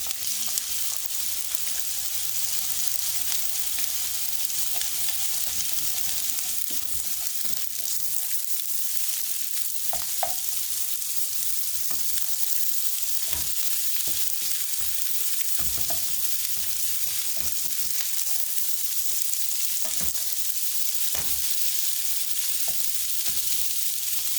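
Egg scrambled in a pan of frying chicken fried rice, with a continuous loud sizzle and occasional scraping stirs and clacks from the utensil throughout.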